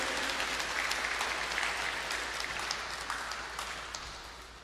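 Steady applause from an audience fills the space, clapping continuously and fairly evenly before gradually tapering off toward the end.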